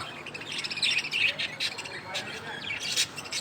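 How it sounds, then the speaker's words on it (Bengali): Diamond doves and cockatiels chirping and calling in an aviary in a steady chorus, with bursts of high twittering and occasional sharper squawks, moderately close. "অস্ট্রেলিয়ান ঘুঘু এগুলা। এখানে আছে ডায়মন্ড ঘুঘু"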